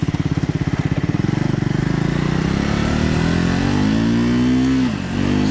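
2024 Triumph Scrambler 400X motorcycle riding on gravel, its single-cylinder engine pulsing at low revs and then climbing into a steady, rising drone close to the rider.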